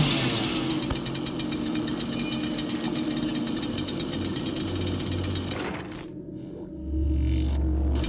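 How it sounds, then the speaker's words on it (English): In the video game DOOM, a chainsaw roars with a loud, continuous buzzing snarl that briefly drops to a lower idle before revving back up. "Yes, the chainsaw."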